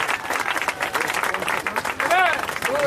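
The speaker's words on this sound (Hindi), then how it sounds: "हम प्रभु के लिए तालियां देंगे।" A church congregation applauds during a worship service, a dense, continuous patter of clapping mixed with crowd babble and a voice calling out over it.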